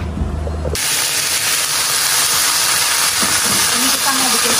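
An egg for an omelette hits a hot pan and frying starts abruptly, becoming a loud, steady sizzling hiss that continues to the end, with faint background sounds.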